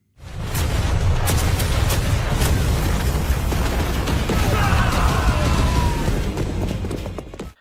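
A dense, continuous roar of heavy cannon barrage rumbles without a break, loud and close, with crackling bursts layered on top.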